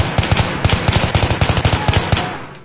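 Rapid automatic gunfire from an M16A3 rifle in Battlefield 3 on the Metro map, loud close bursts of sharp evenly spaced shots that cut off at the end.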